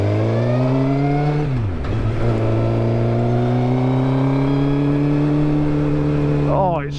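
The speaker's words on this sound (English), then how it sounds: "Listen to that exhaust. That Pipeworks can is gorgeous" A 100,000-mile Suzuki GSX-R sport motorcycle engine rumbles loud and close through a throaty aftermarket Pipeworks exhaust can, revving up and settling back, with a sharp rev burst near the end.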